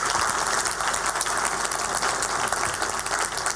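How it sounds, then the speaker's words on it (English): An audience at the AngularConnect 2018 conference gives dense, sustained applause after a talk, steady clapping filling the room with no voices over it. "Maybe some applause,"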